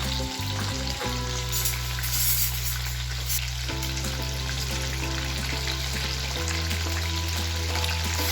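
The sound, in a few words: cornflake-coated chicken chips frying in oil on high flame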